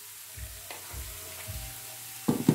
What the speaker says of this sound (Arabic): نخليوها تتقلى شوية وحنا نحركو